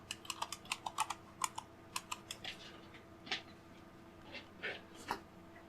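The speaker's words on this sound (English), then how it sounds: "And then we need to type it again." Quiet keystrokes on a computer keyboard as a password is typed. They come in a quick, irregular run of light clicks, then thin out into a few scattered taps.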